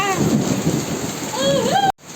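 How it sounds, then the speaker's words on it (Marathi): Heavy rain pours steadily during a thunderstorm, a dense roar close by with a rumbling undertone, ending abruptly; a faint voice may be present under the downpour. "कसल्या विजा लागल्यात संपताला आभाळ पण लागले गरजायला"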